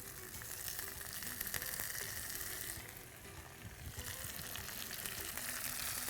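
Onions and squeezed tomato sauté in a pan with a continuous, even frying sizzle, faint but steady throughout, with no talk.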